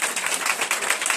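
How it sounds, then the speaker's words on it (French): Applause from a congregation at a worship service, a dense wash of many hands clapping at once, loud and sustained through the whole short moment. "On acclame Jésus"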